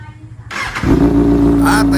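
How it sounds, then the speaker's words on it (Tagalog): A 2023 Kawasaki ZX-6R 636 motorcycle engine cranks and fires up from cold, catching into a steady rumbling idle with a revving edge, close by. "at in-start na natin ang ating motor"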